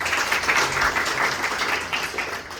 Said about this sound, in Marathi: त्याच्यासाठी टाळ्या वाजवा सगळ्यांनी